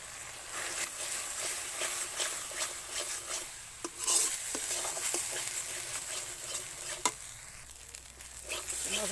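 Spice masala with chilli powder and a splash of water is stirred and fried in a pan, a steady close scraping and soft sizzle with occasional sharper clicks of the spoon against the pan, running the whole time without talk.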